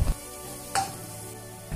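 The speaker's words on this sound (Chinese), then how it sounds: "放入食用油，油热之后放入蒜末，将蒜末炒出香味" Minced garlic stir-fries in hot cooking oil in a wok, a steady low sizzle with a few sharp scraping stirs of the spatula near the start, middle and end, no voices.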